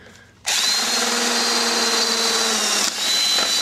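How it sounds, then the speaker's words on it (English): A power drill bores through a 1/4-inch plywood case, a loud close whine that starts abruptly and runs steadily for about three seconds, dipping briefly before carrying on. "drilling through them is remarkably easy"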